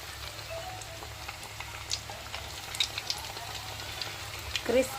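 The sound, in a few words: vadas frying in hot oil on low flame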